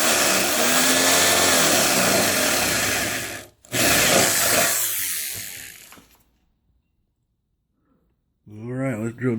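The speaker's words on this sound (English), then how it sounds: "let's drill these holes out" A hole saw grinds through material under steady hand pressure, a loud continuous rasping whine that cuts out briefly, resumes, then stops into silence before a voice speaks.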